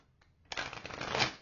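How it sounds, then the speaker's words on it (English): A deck of tarot cards being shuffled: a soft riffle burst starts halfway in and runs steadily to the end, close and moderately loud, with no talking. "One more shuffle."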